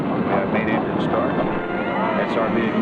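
Space shuttle main engines igniting at launch on the pad at Cape Canaveral: a loud, steady broadband roar that fills the clip without a break, with a voice talking over it.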